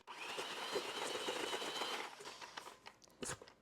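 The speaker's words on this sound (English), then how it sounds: "I'm just going to use a hand mixer because I didn't feel like dragging out the big guns for this" A hand mixer whirs steadily while creaming room-temperature salted butter with granulated sugar, a faint buzzing drone for about two seconds that then stops, followed by a few scattered clinks and scrapes.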